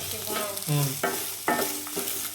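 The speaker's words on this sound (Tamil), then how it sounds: "இது கூட தக்காளியும் சேர்த்து இப்போ நல்லா வதக்கிக்கலாம்" Cabbage and tomatoes stir-fried in a pan, a steady sizzle broken by several scraping stirring strokes, close and fairly loud with no talking.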